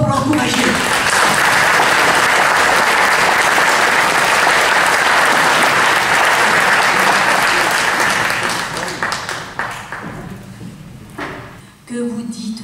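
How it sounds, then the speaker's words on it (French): Loud, sustained audience applause greets a young poetry reader at a recital, thick clapping for about eight seconds that then thins out into scattered claps and fades, with some voices near the end. "On l'applaudit très fort pour l'encourager."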